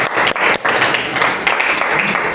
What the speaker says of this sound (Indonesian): Aplaus untuk kuartil.